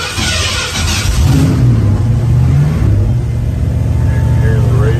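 A 1975 Ford Gran Torino with Holley fuel injection, push-button start, cranks and fires up, its engine swelling into a brief rising rev before settling into a steady, loud, close rumble.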